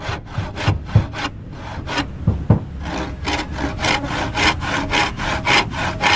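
A hand saw with a dulled blade cuts through two bamboo poles, its rhythmic back-and-forth rasping strokes close and steady, with a few heavier knocks partway through.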